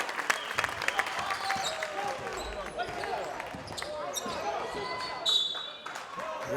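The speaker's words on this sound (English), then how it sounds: "That got a big cheer out of the Cougars fans to our left" Cougars fans cheer and applaud at a boys high school basketball game, a lively crowd roar with scattered whoops and whistles and a sharp burst near the end, mixed with nearby voices.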